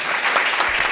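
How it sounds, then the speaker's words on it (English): An audience at a community Ramadan iftar dinner in Burien, Washington applauds steadily, a dense, continuous wash of many hands clapping close by with no pauses. "please give a round of applause real quick, please."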